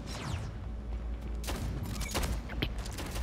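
Gunfire in the first-person shooter Splitgate, a busy scatter of shots and mechanical clatter over a steady low rumble, with sharper bursts near the middle and end.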